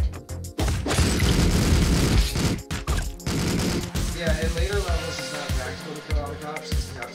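Gunfire in the video game Streets of Rogue: loud bursts of rapid shots and booming impacts crowd the first half, then thin to scattered pops with game effects, under a voice talking.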